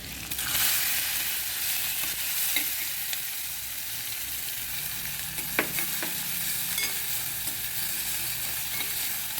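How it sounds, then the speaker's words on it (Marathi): Onion sizzles in a hot pan with asafoetida and garlic, stirred now and then with a spatula scraping the pan; a steady frying hiss runs throughout, with a few sharp clinks and scrapes standing out. "कांदा चांगला परतू द्यायचा सोनेरी रंगावर, तोपर्यंत परतायचं."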